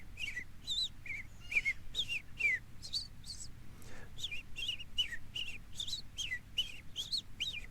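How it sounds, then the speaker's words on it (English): An American robin sings incessantly outdoors, clear whistled phrases repeating in quick succession at moderate distance over a soft background hum, with no voices. "That American robin that's singing incessantly."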